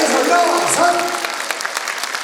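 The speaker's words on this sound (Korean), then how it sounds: "다시 한번 큰 박수 부탁드립니다." Applause from the audience at a kindergarten recital fills the room, partly masked by voices and a sliding tone at the start, then settles into a steady spattering of claps.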